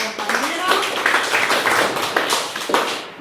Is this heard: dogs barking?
no